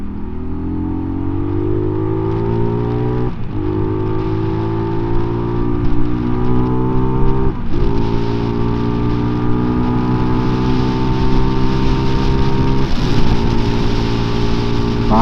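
A 2024 Mutt DRK 250 motorcycle on knobbly tyres is ridden hard, its raspy engine note climbing loud and steady through several gears, each shift dropping the pitch before it rises again.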